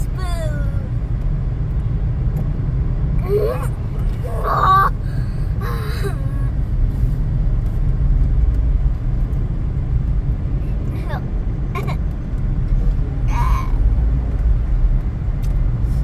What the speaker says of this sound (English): It is traffic anywhere you want to go, any time of day.